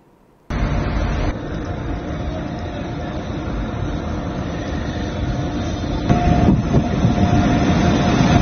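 A train on a trial run along a new rail line in the Kashmir valley gives a steady, close rumble that runs continuously, swelling slightly louder near the end with no voices.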